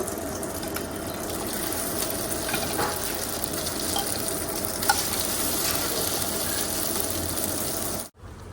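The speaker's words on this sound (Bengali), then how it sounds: "পাউরুটিগুলো না এইভাবে করে দিয়ে ভাজবো" Bread slices frying in a pan, a steady moderate sizzle with occasional light clinks and shuffles, close and uninterrupted until a short drop near the end.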